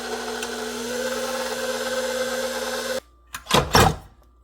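A stand mixer working croissant roll dough on a low second speed gives a steady motor whir for about three seconds, then stops abruptly, followed by a few short clatters and bumps.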